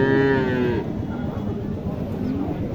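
A young Gir breed cow lets out one loud, close moo that lasts under a second, with a rich harmonic tone, then stops. Steady background noise and faint crowd murmur continue after it.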